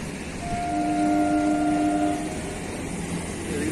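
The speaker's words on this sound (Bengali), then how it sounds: "ওই জায়গা ট্রেনটা চলে গেল।" A train rumbles past close by in Baruipur with a steady roar and a sustained horn blast early on, the rolling noise continuing after the horn stops.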